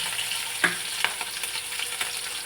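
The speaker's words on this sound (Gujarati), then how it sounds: "આપણે મીઠો લીમડો નાખી દઈશું અને આપણે લીલા મરચાં નાખી દઈશું" Curry leaves and green chillies crackle and sizzle in hot oil as a tempering for Gujarati khaman dhokla, with a steady close fry and a few sharp pops.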